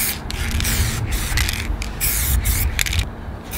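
Montana Metallic Effect spray paint hissing from the can in several bursts, loud and close with brief pauses between passes over a steady background rumble.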